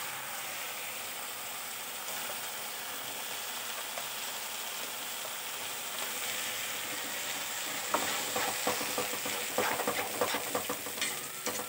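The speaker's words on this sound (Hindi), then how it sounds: "तो थोड़ा सा हम प्याज को भूनेंगे अब।" Onions frying in a pan, a steady moderate sizzle that turns busier toward the end as the pieces are stirred and scraped, with irregular clicks and knocks.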